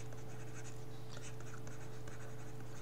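Writing by hand during a class maths lesson, a faint scratchy stroking that comes in short bursts over a steady low electrical hum, quiet and close, with no speech.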